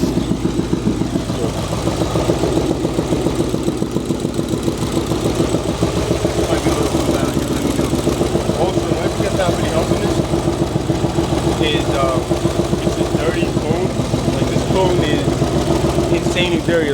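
Ford Mustang under repair idling steadily, a continuous rhythmic engine rumble running throughout, close and fairly loud.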